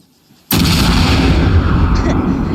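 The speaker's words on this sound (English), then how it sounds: "You can't just run in. Like, because then you will be shot, like this guy." A single loud, close gunshot in the Arma combat video game cracks suddenly out of near silence and rolls into a long, sustained booming echo.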